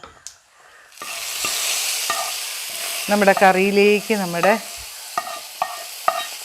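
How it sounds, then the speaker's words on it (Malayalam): A sudden loud sizzle and hiss as tempered mustard seeds in hot oil hit a jackfruit-seed and taro curry, settling into steady frying, then a person talks over it. "കടുക് പൊട്ടിച്ചത് അങ്ങോട്ട് ചേർക്കും"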